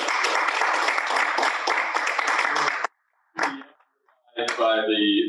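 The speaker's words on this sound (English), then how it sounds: "it will be a modest round of applause considering the number of people that attended" Small audience at an award event giving a modest round of applause, a few seconds of steady clapping that stops abruptly, followed by brief talk.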